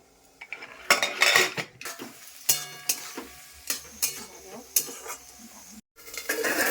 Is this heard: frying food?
yes